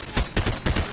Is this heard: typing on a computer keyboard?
no